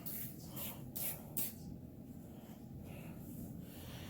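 A spray bottle mists cleaner onto a stain in three quick hissing squirts, close and fairly quiet, followed by soft low background noise.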